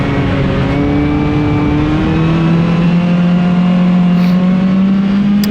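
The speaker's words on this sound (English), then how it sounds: "We had a 18 car field of Focus powered midgets." Ford Focus-powered midget race cars roar around a track at a night race, with a steady loud engine drone rising in pitch as a car accelerates. No one talks.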